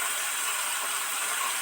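Soya koftas frying in hot oil, a continuous dense hissing sizzle, close and steady for the whole moment.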